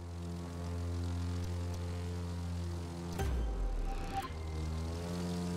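A propeller plane in the racing video game The Crew 2 drones steadily with a constant engine tone, shifting briefly midway as it maneuvers, moderately loud and without talk.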